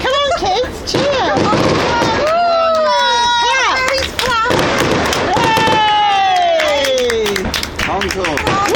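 Fireworks display at the Evesham river festival, with rising whistles and crackling bursts filling the air while an excited crowd talks, cheers and claps throughout.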